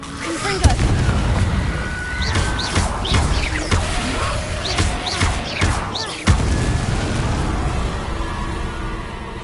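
A Confringo blasting spell in Hogwarts Legacy explodes against rocks: a loud sharp boom followed by crackling debris, with a second heavy blast later, amid battle noise and a voice.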